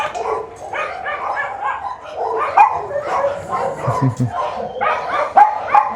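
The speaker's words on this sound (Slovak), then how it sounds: "To je výstavný pes, To je krásny. pitbull" A pitbull at an animal shelter gives short yips and whimpering barks in uneven bursts, close by, while people talk over and between the sounds.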